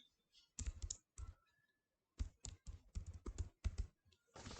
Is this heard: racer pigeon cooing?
no